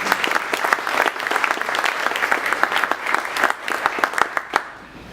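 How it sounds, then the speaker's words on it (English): Audience at a Chandler Chamber education forum claps steadily, a dense, even patter of many hands that thins out toward the end. "let's give a round of applause to Air Products for being a key part of this"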